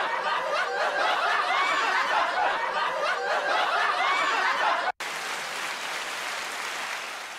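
A podcast studio audience breaks into loud, sustained applause mixed with chuckles and laughter, cut abruptly partway through and resuming as a slightly thinner, steady clapping wash.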